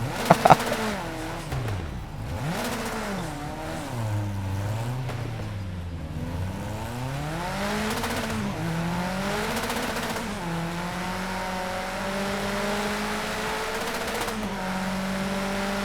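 Project Cars 2 racing car engines rise and fall through repeated gear changes and braking, a loud, continuous close-up engine howl with pitch sweeping up and down across the run, no talking.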